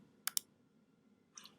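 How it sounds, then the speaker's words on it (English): Someone types numbers into a computer keyboard, giving two quick close clicks followed by a short pause and then a faint cluster of keystrokes in a quiet room. "Now I'm just typing it in, I'm not moving any of that."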